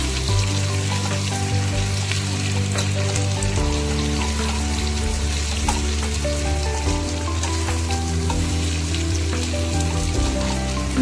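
Potatoes fry in oil in a pan for a home-style aloo posto, giving a loud, continuous sizzle that runs unbroken with no talking over it.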